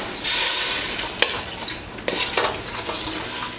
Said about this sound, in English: Give it a stir to coat.